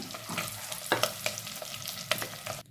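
Eggs fry in oil in a clay pot, a soft crackling sizzle broken by scraping stirs and a few sharper knocks of the utensil against the pot, close and fairly quiet, ending abruptly.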